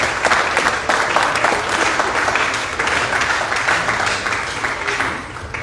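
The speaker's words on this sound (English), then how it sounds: "let's give our guest speaker a round of applause." A room full of people at a Rotary Club meeting claps steadily for a guest speaker, sustained applause at an even level for several seconds with no break.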